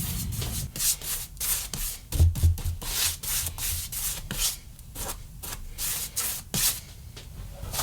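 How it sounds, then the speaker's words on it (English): Chalkboard paint is brushed or rolled onto plywood in a workshop, giving repeated close scraping, rubbing strokes in an uneven rhythm with no talk. "I have some chalkboard paint. I'm going to give it a coat of that."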